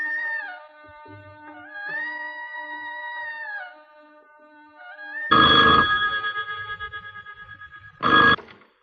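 A telephone rings indoors in an Urdu drama scene: warbling electronic ring tones repeat in a steady on-off pattern, then give way to two loud, harsh, ringing bursts close to the microphone.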